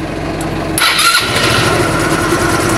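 A motorcycle that had been repeatedly stalling, now repaired, cranks and catches about a second in, then settles into a steady, even idle close by, with no talking.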